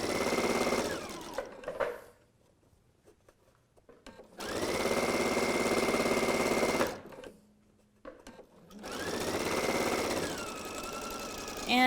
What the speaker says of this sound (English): I'm going to sew this at 1/4 inch